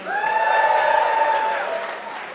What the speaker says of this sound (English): Audience, please make some noise if you want to hear more from Molly Rubin Long.